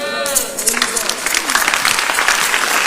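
A church congregation claps and applauds during a sermon, a full, steady patter of many hands that continues throughout, with voices and a sung or spoken tone briefly audible at the start.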